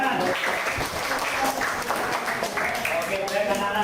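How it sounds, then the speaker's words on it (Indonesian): Students in a madrasah classroom clap for a group's answer, a few seconds of scattered applause under which a teacher keeps talking. "Tepuk tangan"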